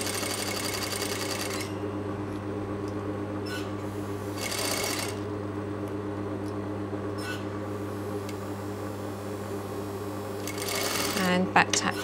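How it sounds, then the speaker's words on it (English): Sewing machine stitching the seam of a concealed zip, a steady, close mechanical hum running throughout with brief bursts of higher whirring and a rattle near the end. "And then we're going to sew the seam in place."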